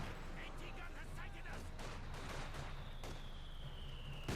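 Machine gun fire in the real-time strategy game Company of Heroes 2, a steady distant battle din of rattling shots and artillery rumble under a commentator's voice.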